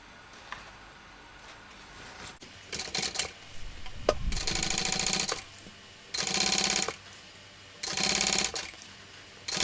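A sewing machine top stitches along the facing of a fabric gift shoulder bag, running in three loud bursts of rapid, steady stitching separated by short pauses and light handling noises, close up.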